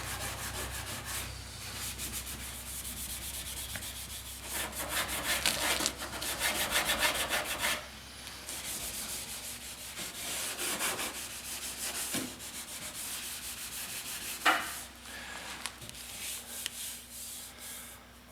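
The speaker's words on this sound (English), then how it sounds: "Give it a light little sand. Using 400," Light hand sanding with 400-grit sandpaper over a welded rust repair on a car panel, a steady soft rubbing scratch in repeated strokes, close and fairly quiet, with no talking.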